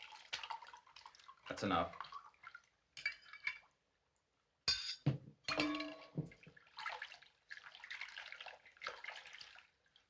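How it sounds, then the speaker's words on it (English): Rum is poured into a container in short splashing, trickling bursts with a few glassy clinks, close and fairly quiet, while someone speaks over parts of it. "Fill that up with rum. Fill it up. Fill it right up."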